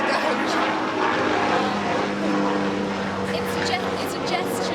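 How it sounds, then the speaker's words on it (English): An airplane passes overhead with a steady, broad engine drone that stays fairly loud and constant throughout, with no pause or fade. "just wait for the plane to go."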